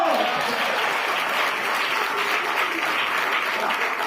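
A congregation at a church service bursts into loud, sustained applause, a thick continuous roar of clapping and voices that holds steady throughout.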